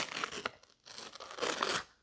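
A knife saws through a chocolate panettone, producing two quick, close, crisp tearing strokes separated by a short pause.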